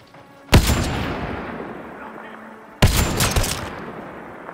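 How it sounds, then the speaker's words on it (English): Gunfire in the video game Mass Effect Andromeda comes as two loud, close bursts of shots about two seconds apart, each tailing off into a rumbling decay. "There goes another headshot."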